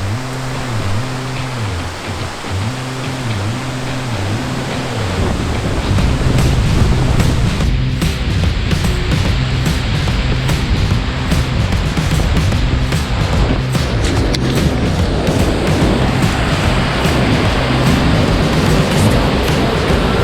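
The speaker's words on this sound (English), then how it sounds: "I basically just paid 8 marks to get wet from this waterfall" Waterfall at Jajce, Bosnia roaring close by as a loud, dense, unbroken rush of falling water that grows fuller midway, with no voices.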